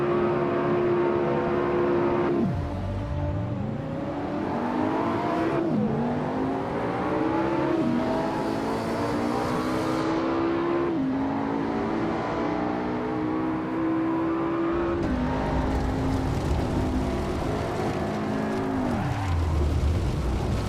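Race car in the Assetto Corsa racing game accelerating hard at full throttle, engine pitch climbing steeply through several gear changes with brief drops between shifts, loud and continuous with no talking.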